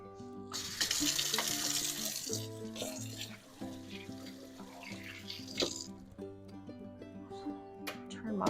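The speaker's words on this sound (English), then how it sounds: "So I'm going to wash my hands." A kitchen tap runs while someone washes their hands under the water. The splashing rushes loudly at first, then turns into softer, uneven trickling, with a voice and some tonal background sound mixed in.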